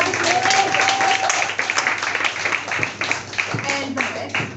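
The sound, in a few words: audience applause for a speaker named Stamatis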